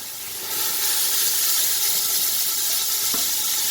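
Mint and coriander leaves stirred into a paste frying in oil in a pan, a steady close sizzle and hiss with soft stirring scrapes, no voices.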